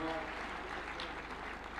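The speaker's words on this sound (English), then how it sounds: "Another round of applause for Senator Kajwang" Steady crowd applause with dense clapping filling the whole moment, loud and continuous, with a faint voice underneath.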